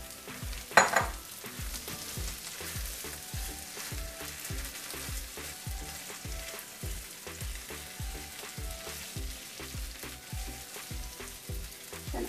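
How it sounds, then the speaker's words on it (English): Tomato puree made from four tomatoes hits a hot pan and sizzles, a steady crackling fry with rhythmic stirring scrapes repeating about every half second, close and fairly quiet, with one louder splash near the start. "we're gonna add this tomato puree"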